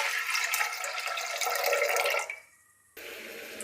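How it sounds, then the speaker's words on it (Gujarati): Mung beans are rinsed in water, giving a steady rushing, splashing wash that tapers off sharply, then a brief quiet before a softer trickle of running water resumes. "આપણે મગને બે પાણીએ ધોઈ લેશું"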